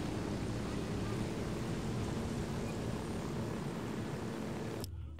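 A helicopter in Ghost Recon Wildlands gives a dense, steady, close rotor and engine roar that holds constant, then cuts off abruptly just before the end.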